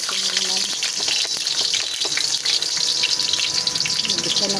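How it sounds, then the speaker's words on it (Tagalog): Garlic, onion and ginger sauté in a hot pan, giving a loud, continuous close sizzle with small crackles and stirring scrapes throughout. "Igisa na po natin naman."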